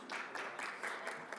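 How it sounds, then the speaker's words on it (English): Brief applause from a conference audience for the speakers, a short burst of scattered clapping in uneven pulses, moderately close and without voices. "Please join me to give a round of applause to our speakers"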